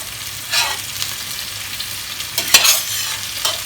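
Cubed meat stirred into potatoes frying in a pan for a güveç stew, a steady soft sizzle with occasional scraping clinks of the spoon, fairly quiet and close.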